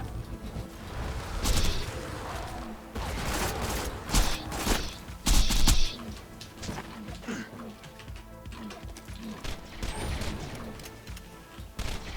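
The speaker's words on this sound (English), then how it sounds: "Throwing grenade." A grenade explosion in the video game Borderlands 3, a loud burst among a busy mix of gunfire and impacts, with a second heavy boom shortly after, all fairly close and dense.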